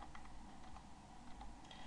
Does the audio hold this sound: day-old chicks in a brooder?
no